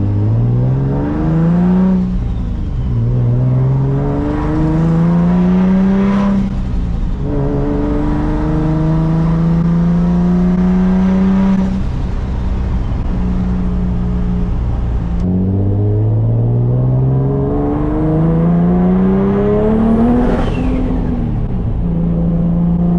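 A Nissan 350Z engine running rich, revving up and down repeatedly in loud, close bursts, each climb rising in pitch before falling back to a rough, steady idle-like drone with no talking.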